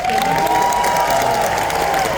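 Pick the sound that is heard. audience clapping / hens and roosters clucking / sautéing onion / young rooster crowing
audience clapping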